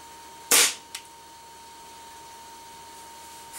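A Crosman Phantom .22 break-barrel air rifle fires a wadcutter pellet through a chronograph: one loud, sharp close crack, then a smaller snap just after, followed by quiet room tone.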